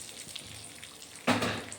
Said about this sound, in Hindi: अब हमने ये जो तड़का तैयार किया है उसको इस पर डाल देंगे